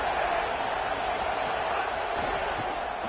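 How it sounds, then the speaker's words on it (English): A football stadium crowd roars in a steady, dense wash of noise, loud and sustained throughout without breaks. "This crowd ready to make its presence known."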